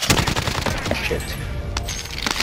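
Rapid video-game gunfire hammers at a building, a loud close burst of automatic shots with a few scattered single reports.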